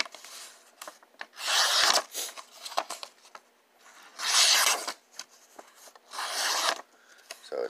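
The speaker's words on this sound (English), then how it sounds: "So it's cutting paper." A Wartech Boondock Saints PWT284BK knife slices through paper in three long rasping strokes, each a smooth scraping rub with quieter handling noises between them, close and alone.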